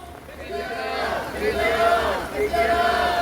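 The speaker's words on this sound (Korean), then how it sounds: "구호 외치고 마치겠습니다" An outdoor protest crowd at the Deoksugung stone wall in Seoul shouts a slogan in unison, with many raised voices chanting together in a loud, rhythmic call.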